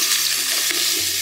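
Onion and oil frying in a pan while cooking banana blossom at Kunighat, Bogura: loud, close, continuous sizzling hiss without pause, with no talking.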